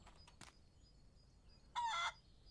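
A chicken in the farm video game Barn Finders gives a short, bright clucking squawk after a couple of faint earlier chirps, quiet surroundings otherwise.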